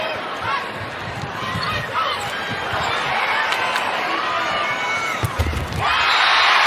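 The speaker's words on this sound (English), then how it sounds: "Crowd coming alive to back their hometown Louisville Cardinals with their first lead" A home crowd roars and cheers for the Louisville Cardinals during an NCAA volleyball semifinal against Pittsburgh, a steady arena din that swells louder near the end, with faint ball and court thuds and an announcer talking over it.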